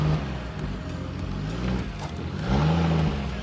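A freshly restarted Toyota Supra MK3 engine under restoration runs at a steady, close idle, its throttle nudged slightly so the revs rise and settle a couple of times.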